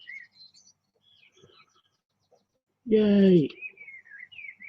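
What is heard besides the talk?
birds chirping loudly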